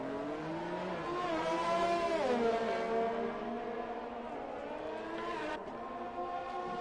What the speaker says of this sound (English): Yep, that is a black and white Ferrari going the wrong way.